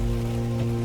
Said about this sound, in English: it begins to rain heavily.